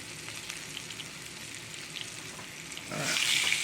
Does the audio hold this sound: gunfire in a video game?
no